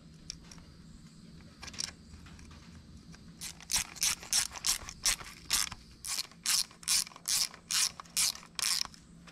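A ratchet wrench tightens 10 mm bolts on a Honda Africa Twin water pump, giving a close run of quick rhythmic clicking bursts, sparse at first and then steady and repeated.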